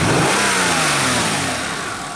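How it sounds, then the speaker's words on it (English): Nissan Maxima engine with overheating trouble and long crank time, throttle snapped into a loud rising rev that peaks and then slowly falls back, heard up close with no talking. "Snap the throttle."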